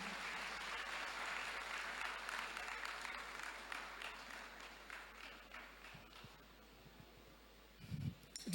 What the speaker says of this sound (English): A round of applause as she takes over.